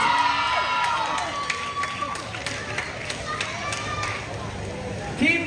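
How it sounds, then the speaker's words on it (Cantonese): Crowd at a Hong Kong Disneyland dance-off party finale cheers and whoops as the last dance team takes the stage, a steady roar of voices with scattered shouts throughout. "Our final group， 掌聲歡迎 Team"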